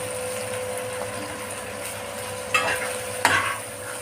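Ground spices sizzling in oil as they are stirred for masoor dal with bottle gourd, a steady frying hiss under a faint hum, broken by two scraping stirs of the spoon near the end.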